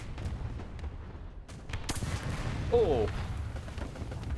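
Sharp single cannon boom from an M24 tank in a video game, preceded by scattered distant shots and followed by rumble, with a brief spoken exclamation.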